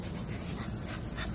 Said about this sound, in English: Cute pup.